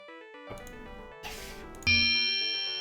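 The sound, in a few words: bell sound from the video game Santa's Secret Valley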